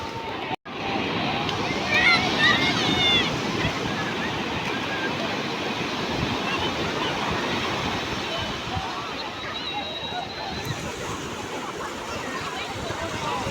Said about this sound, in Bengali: বিশাল বড় বড় ঢেউ।